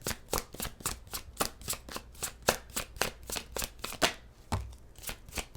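Tarot cards being shuffled in a steady run of crisp riffling flutters, about fifteen quick bursts over several seconds, close and clear with no talking.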